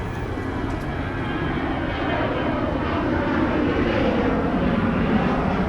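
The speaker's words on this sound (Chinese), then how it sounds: "有飞机。" An airplane passes overhead above a tree-lined main road in Chiang Mai, Thailand, making a steady broadband roar that swells slightly as it goes, with no talking.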